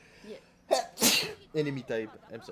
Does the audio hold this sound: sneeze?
yes